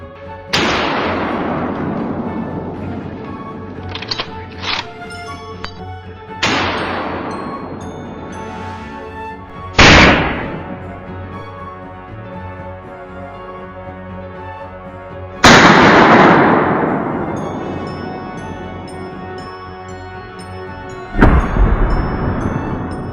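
Gunfire aimed at wild boars invading farm fields: five loud, sharp reports spaced several seconds apart, each followed by a long echoing decay, with no talk.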